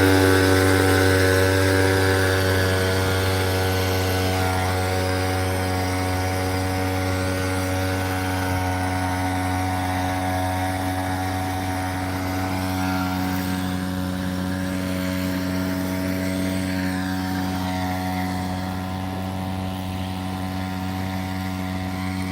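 A motorized pesticide sprayer engine runs in a paddy field, giving a loud, steady droning hum with strong harmonic tones that stays close and continuous throughout, with slight shifts in pitch.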